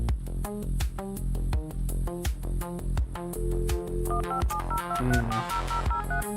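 In a retro hacking video game, a rapid series of electronic telephone dialing tones, beeping in quick succession over a steady background hum, with a short musical tone sequence near the end.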